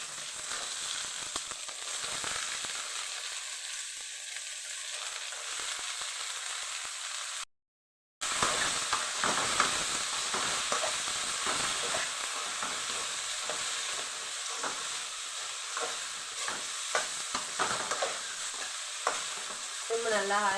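Beans fry in oil over high heat for a poriyal, with a steady close sizzle and frequent scraping stirs; the sound drops out for a brief moment midway before the sizzling and stirring carry on.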